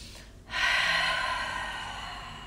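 Slow breathing exercise during a pregnancy yoga session: a soft, airy breath begins about halfway through and holds steady for a couple of seconds, fading gently, close and alone with no talking.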